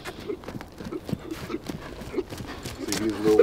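Hooves of a ranch horse trotting with long strides during cattle-roping work, a steady clip-clop rhythm close by, with people talking over it throughout.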